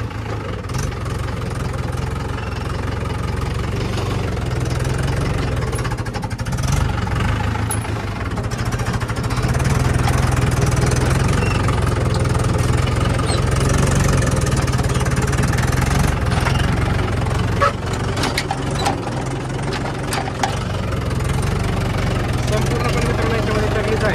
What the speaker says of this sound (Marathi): आपल्याला तेवढा ट्रॅक्टर चालवावा लागत आहे